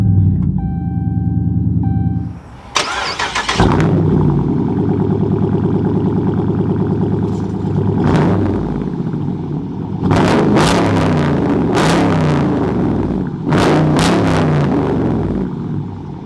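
A new Dodge Charger R/T engine cranks and catches, settling into a deep, steady idle rumble with a few sharp clicks and blips over the top; no one speaks.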